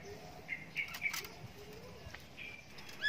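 A starling's wings flap briefly as it flies in close, with soft chirps and tweets scattered through a quiet outdoor background.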